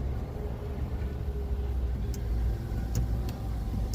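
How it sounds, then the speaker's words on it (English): A tuned Mercedes-AMG C63 S with a JB4 tune pulls in first gear: a heavy, steady low engine roar fills the car, loud and continuous, with a few faint ticks above it. "Give it a quick little pull in first gear"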